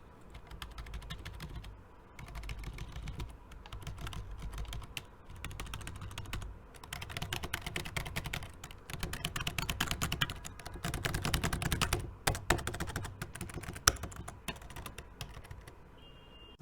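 Typing on a Logitech K230 wireless budget keyboard, close and clear: bursts of rapid key clicks and taps with short pauses between runs, alone without voices.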